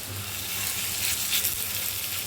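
Mutton fat fritters frying in a pan of hot oil, giving a steady, close, loud crackling sizzle throughout with no talk.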